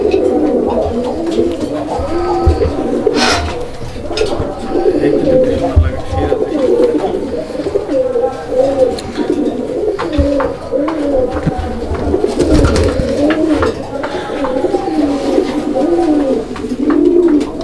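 Raj Golla pigeons at a pigeon sale, cooing continuously in overlapping rolling calls close by, with a busy crowd murmur beneath.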